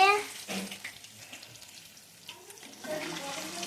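Mushroom pakodi crackling and sizzling in hot oil, a steady hiss with brief pops that swells louder near the end, with faint background voices.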